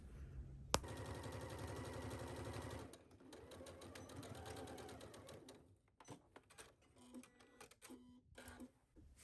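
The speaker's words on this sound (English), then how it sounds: "we are going to pin and sew this at 5/8 of an inch seam allowance" A sewing machine stitches a skirt seam at 5/8 inch allowance, running in a fast steady whir for a few seconds, then in shorter bursts and stops, with a sharp click near the start.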